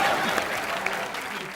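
Clapping from a comedy show's studio audience, a dense steady wash of applause that holds evenly for the whole stretch with no voices over it.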